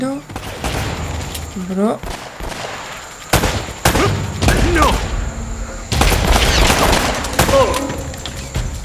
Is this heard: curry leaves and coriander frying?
no